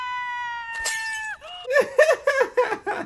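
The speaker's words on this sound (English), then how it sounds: "she's trying to break the glass" Glass breaking in a scene from the film Harry Potter and the Prisoner of Azkaban: a sustained high sung note ends in a brief, bright crash of shattering glass, followed by excited voices talking.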